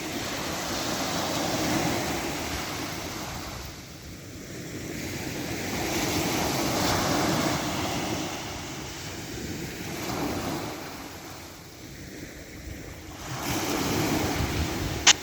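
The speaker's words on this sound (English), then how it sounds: "I just love the sound of the sea." Ocean waves at Kessingland, UK, wash steadily onto the shore in slow, rolling surges, with a constant roar of surf and some wind rumble, no voices.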